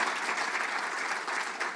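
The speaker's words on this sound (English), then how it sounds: "And you can clap about that." Audience applause at an award celebration, a dense continuous wash of many hands clapping at a steady level throughout.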